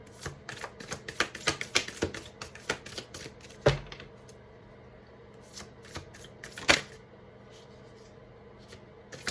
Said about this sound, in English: I have to shuffle these in halves because they're too fat.